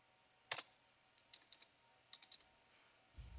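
Sparse keyboard typing as a router command is entered, one louder click followed by two quick bursts of light taps, close and quiet with a soft thump at the end.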